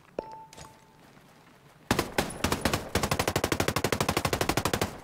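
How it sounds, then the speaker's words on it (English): Rapid automatic gunfire in the video game Ghost Recon Breakpoint, a couple of isolated shots and thuds, then a sustained burst of fast rhythmic shots that grows louder toward the end. "I'm just shooting. I don't know where I'm shooting at."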